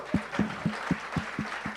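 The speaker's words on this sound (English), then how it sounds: "Another round of applause." Applause from a demo-night audience at a tech event in San Francisco, heard as a short run of about seven distinct, evenly spaced claps with a faint crowd clatter behind them.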